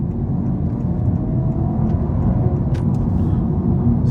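A Honda Civic hybrid in Sport mode accelerating gently in heavy traffic, heard from inside the cabin as a steady, loud low rumble and whir that holds without a break.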